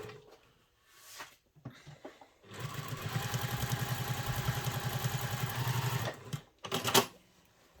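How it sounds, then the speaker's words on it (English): A domestic sewing machine runs a seam with a back stitch, a rapid rhythmic mechanical chatter for about four seconds framed by short bursts at start and end and quiet handling pauses between. "Starting and stopping back stitching."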